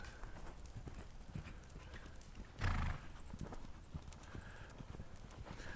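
A horse lopes in an arena, hooves beating a steady, rhythmic clip-clop at moderate distance, with a brief louder thud midway and faint background noise.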